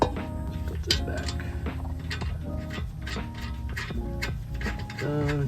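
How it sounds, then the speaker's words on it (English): A car jack is pumped up under a Lexus IS250 during a coilover install, giving a quick run of rhythmic metallic ratcheting clicks and clinks, close and fairly loud. "I'm just gonna put the jack, pump it up so that way I can align the arm with the coilover."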